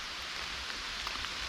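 A dense, steady hiss of heavy downpour, close and constant with no pauses, at a dugout shelter.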